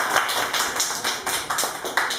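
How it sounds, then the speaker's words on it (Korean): A church congregation claps together in a steady, fairly loud run of overlapping handclaps, with sharp individual claps standing out near the front and no talking over it. "여러분 함께 박수하면서"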